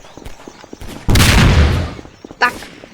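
Gunfire rings out in a meme-war video game as one loud, sustained burst lasting under a second, then a short sharper crack shortly after, over quiet background noise.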